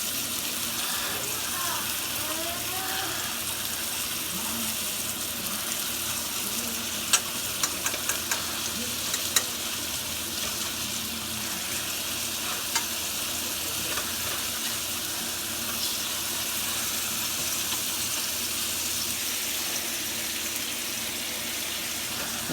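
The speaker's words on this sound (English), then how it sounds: "And we're going to cook the eggs in this pan." Eggs fry in a pan during a home breakfast cook, giving a steady, loud sizzle throughout, with a few faint clinks and a voice talking underneath.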